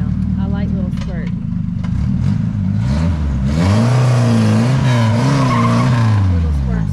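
A 1972 Ford Pinto roars loudly nearby as its tires squeal and wail in wavering sustained bursts over the revving engine, with voices talking over the din in the first few seconds.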